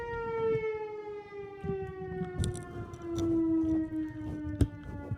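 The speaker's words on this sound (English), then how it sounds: "as the siren goes off outside" A civil defense siren wails outside, a sustained tone slowly falling in pitch and heard at a distance, with scattered nearby knocks and bumps and no speech.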